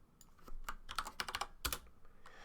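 Quick bursts of computer keyboard keystrokes clatter close by, an uneven run of clicks over roughly a second and a half while someone types into a search box, with no one speaking.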